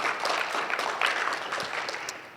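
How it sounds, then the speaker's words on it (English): A conference audience at an academic visualization event applauds, a moderate, steady patter of many hands that swells near the start and gradually tapers off. "let's give a round of applause"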